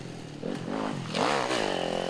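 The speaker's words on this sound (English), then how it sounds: "Still running the tall gear, still really lugging that engine aboard that YZ250F" Yamaha YZ250F dirt bike engine lugging in a tall gear at an enduro race in Westpoint, Tennessee, a loud, close, labored drone with rising and falling pitch.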